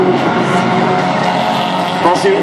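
Fol'car race cars on a circuit in Mayenne, engines roaring loudly and steadily as they run close together, with a commentator talking over the noise.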